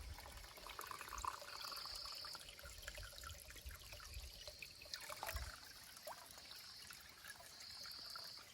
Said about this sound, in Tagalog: dito kami nag-stop kasi may source kami sa tubig